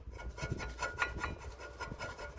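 A screwdriver scraping rust and brake dust off an Audi brake carrier, a quiet, rhythmic rasping of metal on metal in short repeated strokes, close up.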